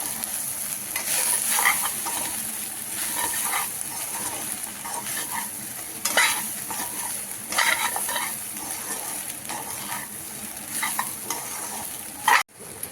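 Soybean chunks stir-fry with chili powder in a pan, giving a continuous close sizzle with scraping stir strokes and a louder clatter near the end.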